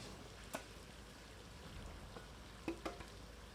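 Fried onions are stirred into korma ingredients in a pan over a low, steady sizzle, with a few faint spoon scrapes and taps.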